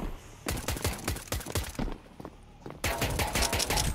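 Rapid bursts of gunfire in Counter-Strike 2, a dense run of sharp close shots with a short pause before another volley, loud and with no talk over it.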